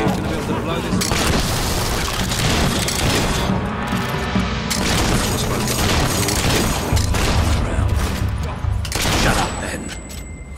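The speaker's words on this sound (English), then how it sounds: "We're under fire!" Gunfire and explosions rage in the Fable III battle, dense loud booms and crackling volleys stacked continuously, with voices shouting over the din.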